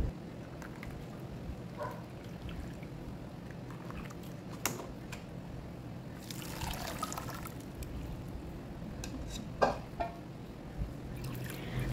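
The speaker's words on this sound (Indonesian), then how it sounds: "nanti bahan-bahan ini saya akan tapis ya" A turmeric, tamarind and ginger herbal drink being strained, quiet pouring and trickling liquid in short bursts with a brief louder pour midway, alongside faint clinks and handling noises.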